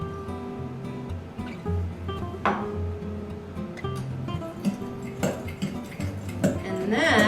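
Egg yolks and sugar mixed with a fork for chocolate creme brulee, a run of quick close clinks and scrapes against a bowl, with a few louder taps and some faint voices in the background.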